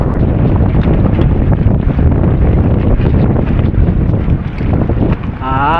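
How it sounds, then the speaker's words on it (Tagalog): Strong seasonal amihan wind buffets a small fishing boat at sea, a loud steady roar filling the clip with gusting rumble and no voices. "Ay, ang lakas ng hangin."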